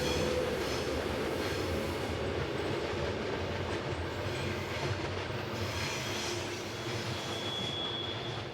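Train rolling along the Semmering Pass railway in Austria, a continuous loud rumble of wagons with faint wheel squeal and clatter, heard without any talking.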